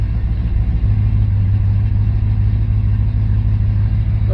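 A C3 Corvette engine idles steadily while warming up after a 200-4R transmission install, a loud, continuous low rumble with no change in pitch throughout.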